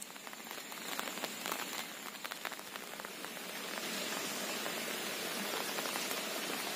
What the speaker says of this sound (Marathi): तर बांधावरती पाऊस खूप आहे।